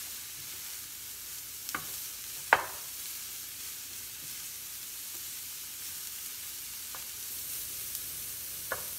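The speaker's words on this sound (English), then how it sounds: "continue to saute. And mix the shallots in with the cauliflower rice" Shallots and cauliflower rice sauté in a pan under a faint, steady hiss, with a few brief scraping stirs scattered through.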